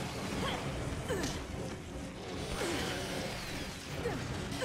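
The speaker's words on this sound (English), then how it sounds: "You got stuck in, like, the bear trap thing while you were escaping?" A bear trap mechanism in the video game Resident Evil Revelations gives faint metallic ratcheting clicks and creaks, several small clanks spread over a few seconds against a busy, low background.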